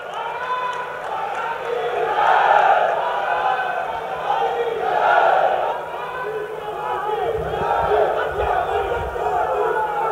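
A large crowd at a political rally and airport terminal foundation event in Gwalior roars and cheers in swelling waves, loud and continuous, rising and falling across the whole stretch without a clear break.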